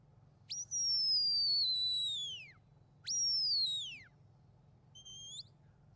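At a sheepdog trial, a shepherd's stop whistle to the sheepdog gives two long, loud, sharply rising then slowly falling blasts, followed by a short fainter chirp, over a quiet outdoor hum.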